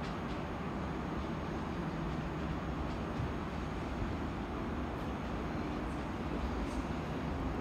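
A train arrives at Den Haag Centraal station with a steady, loud rolling rumble of wheels on track that holds throughout, with faint higher squeals near the end.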